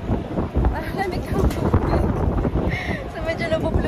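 Strong wind roars across the microphone at a five-star hotel, a loud, constant gusty rumble with someone talking over it.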